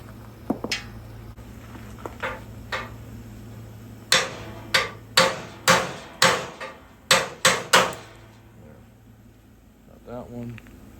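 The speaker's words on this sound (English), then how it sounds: "I'm gonna tap them out with the hammer now" Hammer blows knock burned-out parts free from a truck frame during a crossmember build, about a dozen sharp metallic strikes, sparse at first then a steady run of loud hits, with a low hum underneath.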